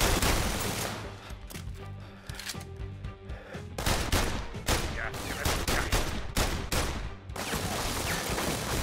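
Rapid machine gun bursts and scattered gunshots crackle loudly and densely in the VR game The London Heist, sustained in dense volleys with brief gaps.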